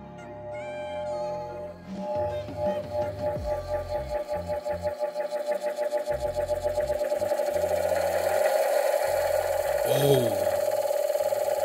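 Homemade water-cooled wood bead tumbler running after being plugged in, a steady mechanical whir with a fast repeating rattle that grows slightly louder, a brief clank near the end.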